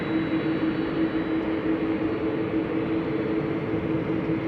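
KLM Airbus A330 engines spooling up at Amsterdam Schiphol Airport, a steady mid-distance hum with a sustained whining tone, even and unbroken with no voices.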